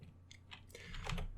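A computer keyboard is typed on quietly in a short burst of a few soft, uneven keystrokes, heard alone and fairly faint.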